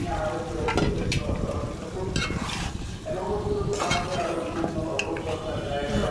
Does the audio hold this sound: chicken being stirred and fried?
yes